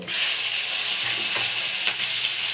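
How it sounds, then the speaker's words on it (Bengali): Onions frying in hot oil after five-spice seeds for a fish curry, a loud dense sizzle lasting a couple of seconds with a faint stir or two. "পেঁয়াজ দিয়ে ভালো করে ভেজে নেবো"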